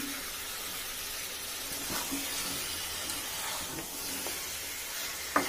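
Onions with masala sizzling in a pan, a steady broadband hiss with faint scraping stirs, recorded close and continuous.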